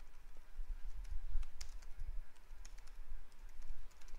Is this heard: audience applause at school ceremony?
no